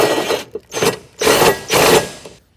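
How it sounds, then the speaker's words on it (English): A power tool fitted with an 18mm deep socket drives a side step bracket bolt on a Jeep Grand Cherokee WK, whirring loudly and close in four bursts separated by short pauses. "we're cheating, we're using a power tool"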